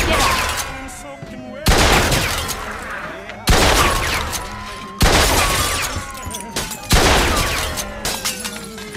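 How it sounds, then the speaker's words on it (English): Gunfire in the video game Mafia II comes in about five loud bursts of shots, each with a crashing, shattering impact and a long echoing decay, spaced roughly every two seconds, with a faint voice underneath. "Got some nut job here shooting a gun."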